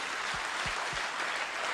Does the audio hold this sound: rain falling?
no